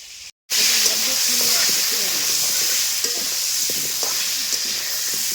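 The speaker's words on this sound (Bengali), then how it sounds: "আর এবারে চলছে আলু ভাজা" Potatoes fry in an old, thin wok over a wood fire, giving a steady, close hiss and sizzle that runs throughout after a brief cut near the start, with faint stirring and a voice talking quietly underneath.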